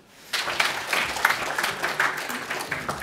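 An audience bursts into applause that starts abruptly and holds steady, many hands clapping close and loud without any talk over it.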